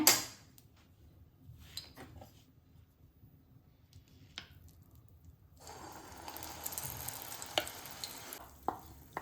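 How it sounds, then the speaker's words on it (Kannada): Ground banana goes into hot ghee in a pan for banana halwa. Scattered faint clicks and stirring scrapes give way to a soft, steady sizzle in the latter half. "ಈಗ ತುಪ್ಪದಲ್ಲೇ ಇದನ್ನು ಚೆನ್ನಾಗಿ ಫ್ರೈ ಮಾಡಬೇಕು"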